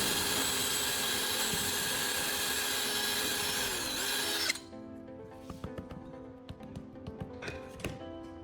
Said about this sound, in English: I'll use my drill to create a precise central hole, which is crucial for mounting the disc correctly on the angle grinder